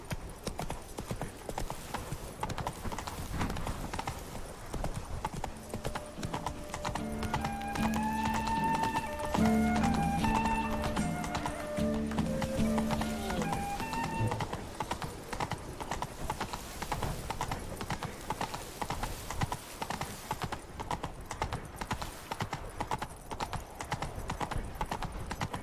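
Roach the horse gallops in The Witcher 3, steady rapid hoofbeats running throughout at close range while a melodic music cue swells partway through.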